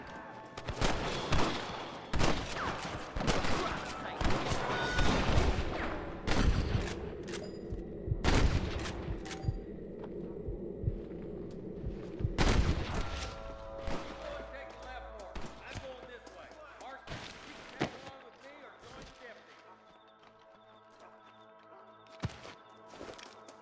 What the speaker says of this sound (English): Gun them down!